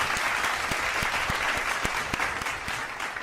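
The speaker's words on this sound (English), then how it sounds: "Have a good round of applause." A round of audience applause after a guest's introduction at a live SEO business Q&A event, steady crowded clapping with a few sharper close claps standing out, continuing throughout.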